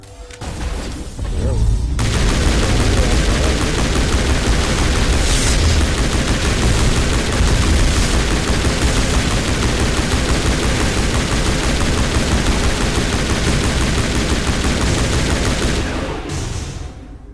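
Intense gunfire fills a firefight in the Mass Effect video game, a dense, continuous barrage of shots and booms that starts abruptly and holds loud for most of the stretch before tapering off.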